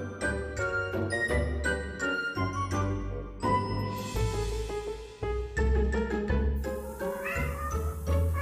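A cat meows several times in short calls, mixed with bright jingling tones and other layered sounds that run steadily throughout.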